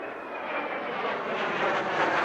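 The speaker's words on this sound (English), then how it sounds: "Allied aircraft soared overhead" Aircraft in the Ace Combat 04 video game soar overhead: a loud, steady engine roar that swells slightly as it passes close, with no talk over it.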